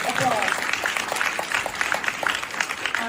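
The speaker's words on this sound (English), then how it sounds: "applause" After a mentorship panel discussion, an audience breaks into moderate, fairly distant applause with scattered distinct claps, and a voice is audible through it.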